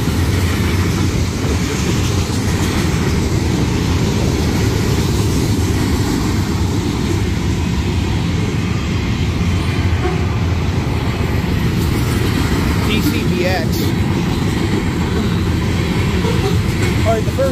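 A Union Pacific freight train rolls past close by as a steady, loud, broadband rumble of wheels and cars that holds unbroken throughout, with a faint voice underneath.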